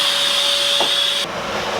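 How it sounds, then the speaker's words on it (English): A household vacuum cleaner runs steadily close by while being pushed behind furniture, giving a constant high whining hiss that shifts slightly in tone partway through. No one speaks. "I'm gonna vacuum behind it."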